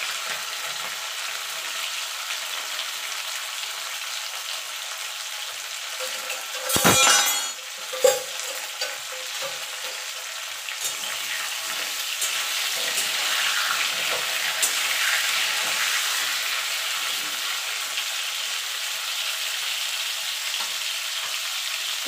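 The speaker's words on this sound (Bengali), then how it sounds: "পটলগুলো আমি হালকা করে ভেজে তুলে নেব।" Pointed gourd (potol) sprinkled with salt fries in oil with a continuous, close sizzle, broken by a sharp burst of spattering and a clatter partway through.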